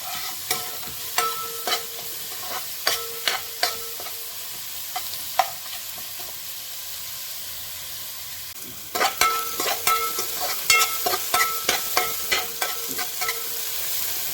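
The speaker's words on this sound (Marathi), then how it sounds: "चांगला गोल्डन फ्राय होईपर्यंत आपल्याला फ्राय करून घ्यायचा आहे" Ginger and garlic frying in a large pot until golden, a low sizzle under a series of sharp clinks and scrapes from stirring, with a short pause midway before a quicker run of clacks.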